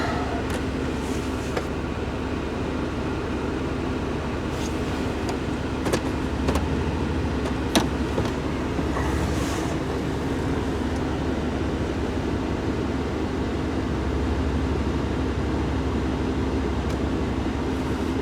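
A Chevy truck with a front axle actuator drives through a snowy alley while four-wheel drive is tested, giving a steady low engine hum and road rumble heard from inside the cab, with faint squeaks over it.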